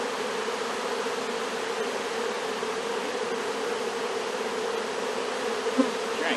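A honey bee swarm being installed into a hive buzzes steadily and densely at close range, a continuous unbroken hum with no pauses and no voices.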